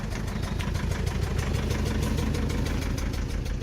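A Mercedes Sprinter van's diesel engine idles right after a cold start, with a steady, close rhythmic knocking clatter that runs evenly throughout.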